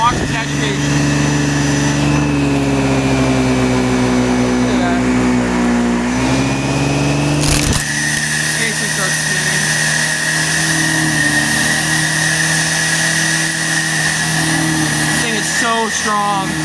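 A 2009 Bissell Healthy Home 2nd Gen upright vacuum cleaner, model 16N5, running: a loud, steady motor whine and hum that shifts pitch about halfway through, then carries on evenly.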